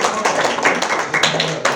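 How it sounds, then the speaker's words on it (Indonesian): Applause from an audience at a Bawaslu public relations capacity-building session in North Sulawesi, a dense continuous patter of many hands clapping that holds steady for a couple of seconds. "Tepuk tangan sekali lagi untuk Bawaslu."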